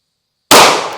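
A single loud, sharp gunshot from an FN 509 Tactical pistol fired outdoors among trees, an abrupt blast after a moment of silence, decaying quickly with a brief echo.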